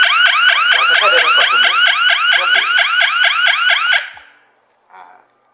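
A loud bathroom emergency call alarm wails with rapid repeating chirps for about four seconds, then cuts off, followed by a brief faint beep.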